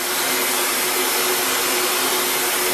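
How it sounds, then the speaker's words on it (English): A heat gun blows hot air over PVC conduit to soften it for bending, a steady loud broadband whoosh with a faint tonal whine that holds unbroken throughout, with no talking. "The idea is to heat the whole outside of the"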